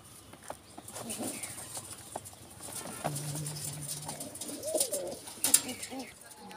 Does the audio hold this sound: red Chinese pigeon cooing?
yes